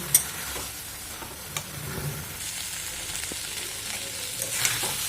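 Flat beans stir-frying in a pan as their released water cooks off, a steady soft sizzle with intermittent scraping stir strokes and small clicks, fairly close and moderate in level, no voices.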